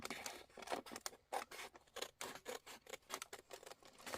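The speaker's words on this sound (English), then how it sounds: "And just taking my scissors, I'm trimming it out." Scissors snip through a paper window envelope in quick, uneven bursts, close by and crisp, with short pauses between cuts.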